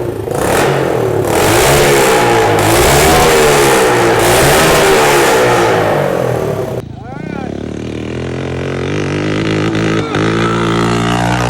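A Pitster Pro pit bike engine revs hard while being ridden, loud and close, rising and falling through the gears, then a brief drop before a lower, steadier engine drone resumes.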